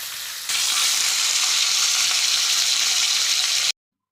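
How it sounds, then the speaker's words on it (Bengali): Pieces of rui fish fry in hot oil for a Bengali fish curry. A loud, dense crackling sizzle starts suddenly and holds steady for a few seconds, then cuts off abruptly. No voices are heard. "মাছটা হালকা ভাজা করলাম, দেখুন মাথাটা একটু ভাজবো বেশি"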